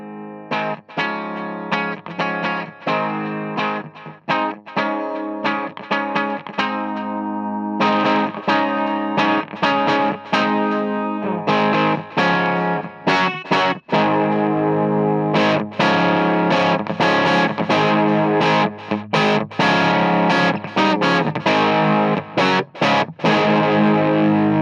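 An electric guitar on its bridge pickup drives a Sawtooth Tube Series 5 watt tube amp head, played as loud, crunchy, distorted chords in a steady strummed rhythm with short choked gaps, its volume knob turned up gradually from nearly off.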